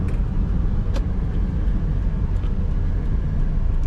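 The 1.3-litre engine of a 2005 Perodua Myvi automatic drones steadily at close range, a continuous low rumble with no clear rise in pitch, along with faint road noise.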